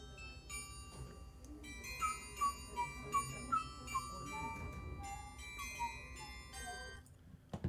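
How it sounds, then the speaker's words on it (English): A train station chime melody playing Camptown Races, bell-like notes in a bright tune against a low background rumble, faint and a little distant. "There's a chime melody."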